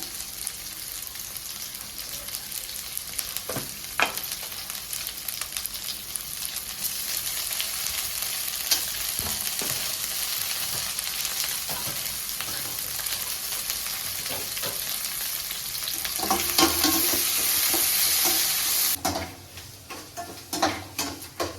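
Ivy gourd sautéing in a pan for a kuzhambu, with a steady broadband sizzle and frying crackle running throughout, punctuated by a few sharper stirring clicks and ticks, louder toward the end before easing off.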